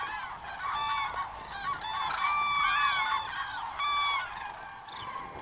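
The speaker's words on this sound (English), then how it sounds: "Their thousand-fold trumpeting can be heard for miles around." Large cranes on the Baltic coast trumpet in overlapping honking calls, a loud chorus of many birds that rises and falls without pause.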